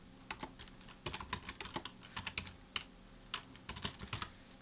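Typing on a computer keyboard to enter a part name in CAD drawing software: quick irregular clusters of close, crisp key clicks with short pauses between bursts, no talking.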